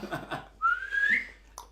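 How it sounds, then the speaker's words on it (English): A person gives a single rising whistle lasting about half a second, close and clear, following a brief murmur of speech. "He whistles,"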